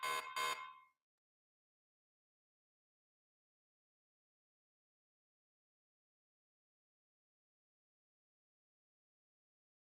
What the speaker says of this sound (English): I don't know where or why that beeping is happening.